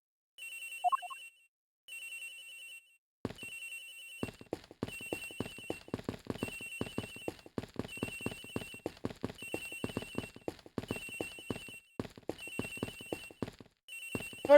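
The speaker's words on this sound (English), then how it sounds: "Sounds like the phone." Repeated electronic telephone rings in the Ace Attorney Investigations game, at the Turnabout Airlines episode: a steady train of pulsed ring bursts after a short pause, fairly loud and alone with no talk.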